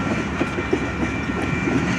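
A Union Pacific manifest freight train rolls past close by, loud and continuous, with rhythmic clickety-clack of wheels over rail joints and a rumbling undertone.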